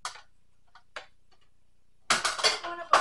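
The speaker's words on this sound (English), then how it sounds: "Alright, I'm gonna take the pans out." Metal pans being pulled out and clattering against each other, a sharp burst of loud clanks and rattles after a few faint taps, close by with no talking.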